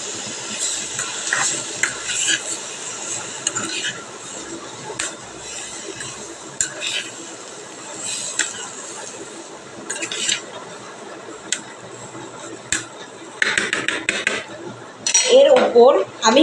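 Chicken being worked and turned by hand in a dish after coming out of the oven, giving scattered clinks of utensils and dishes with soft wet squishing, close and moderately loud, heavier toward the end.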